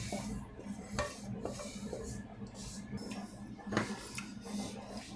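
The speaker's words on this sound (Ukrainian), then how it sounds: "зараз висипаємо наші кабачки з моркою, з цибулькою" Zucchini with carrot and onion is tipped into a pan, making soft clattering and scraping with a few sharper knocks against the metal over a low, quiet background.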